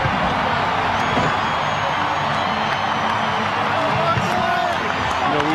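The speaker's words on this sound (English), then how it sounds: "which was met with passionate applause here in the ballpark" Passionate ballpark crowd applauding a message from Hank Aaron on the center field scoreboard, a loud, steady wash of clapping and cheering that holds throughout.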